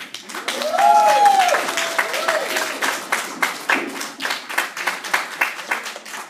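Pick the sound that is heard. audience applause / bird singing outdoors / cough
audience applause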